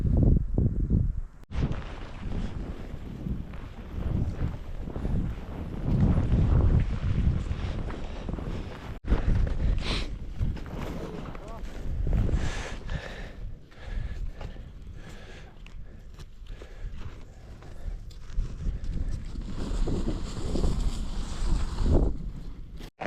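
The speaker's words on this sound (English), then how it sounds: "The wind is blowing the snow off the trees" Strong wind roars across a mountainside and blows snow off the trees, a steady rushing gust with heavy buffeting close to the microphone throughout.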